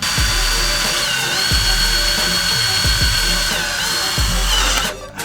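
Power drill boring a pilot hole in metal, a loud, steady high whine with repeated grinding bites as the bit cuts, stopping abruptly at the end.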